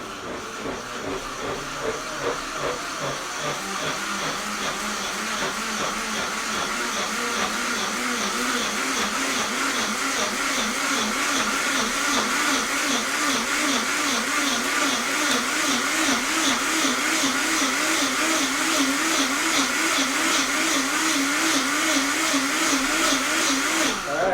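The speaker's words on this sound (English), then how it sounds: "Now be careful when you're pureeing hot stuff." Blender pureeing hot pea soup made with the pods, running as a steady loud whirring churn with a pulsing rhythm that builds slightly and continues throughout.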